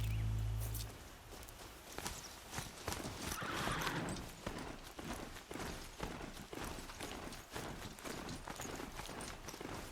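The mechanical horse-like Strider from Horizon being ridden, a quick, steady run of close clip-clop hoofbeats over a continuous rumble, with a loud low thump at the start.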